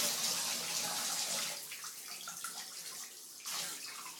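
Hot water pours steadily with a broad hissing rush, a bathtub filling from a tap, continuous throughout with slight gurgles and splashes.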